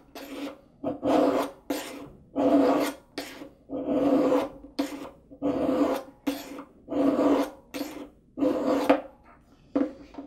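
A knife blade is drawn across a sharpening stone in a steady series of about a dozen rasping strokes, each a close scraping swish separated by short pauses, with no talk.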